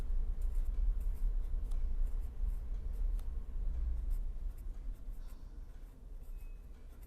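Soft scratching of writing on a board during a lecture on membrane vibrations, a steady low-level stroke sound running continuously for about seven seconds with no talk over it.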